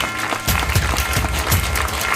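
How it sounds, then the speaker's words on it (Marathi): Applause from an audience at an award ceremony honouring a professor, a steady sustained wash of clapping from many people throughout, fairly loud and continuous. "टाळ्यांचा आवाज थांबला नाही पाहिजे."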